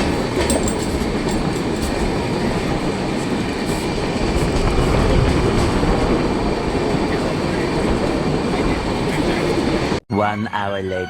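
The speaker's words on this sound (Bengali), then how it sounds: "ছত্রপুর স্টেশন থেকে ট্রেন ছেড়ে দিল" The 12839 Chennai Mail passenger train runs after leaving Chhatrapur station, a loud, steady rumble and rattle of wheels on track heard from on board, with a voice briefly at the end.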